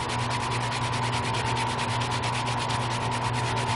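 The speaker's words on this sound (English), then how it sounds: "here's a spot that I started scrubbing with the MiracleWipe, and it is coming off" Continuous, even scrubbing with a MiracleWipe works a paint spot out of clothing, a close, steady rubbing hiss that carries through the whole stretch without pause.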